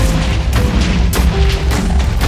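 Rapid automatic weapon fire from a modded Minecraft game, a continuous dense barrage of loud booming shots with sharper cracks every half second or so, steady and close throughout.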